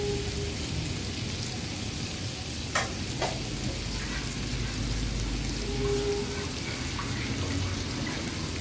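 Beef sizzles and fries in a pan with a loud, steady crackling hiss, broken by a couple of sharp clicks as the meat is stirred.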